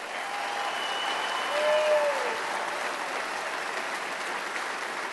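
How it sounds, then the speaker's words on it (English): An audience at a Hall of Fame induction applauds steadily. The clapping is broad and continuous, with a slight swell partway through and a faint whistle heard above the crowd. "Please give Ron Sandus a round of applause."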